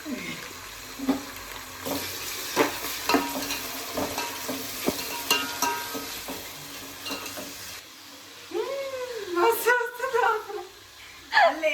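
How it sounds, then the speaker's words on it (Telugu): Tomatoes fry in ghee while being stirred in a pan for a Sunday biryani, giving sporadic scraping and clinking strokes over a soft sizzle, with a voice near the end. "నెయ్యి వేసుకోగానే కలిపేసుకొని టమాటా వేసుకోవాలి"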